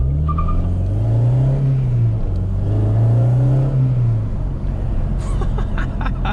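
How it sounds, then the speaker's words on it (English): A Honda Civic Si launches from a standstill and accelerates hard, its engine droning loudly and climbing in pitch through revs, heard close from inside the car with a brief voice near the end. "Quick little launch here, see what we can do, guys."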